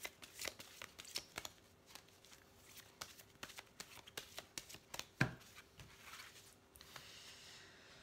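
Tarot cards being shuffled and drawn from a deck, soft close papery flicks and riffles in an irregular patter, quiet and without voices.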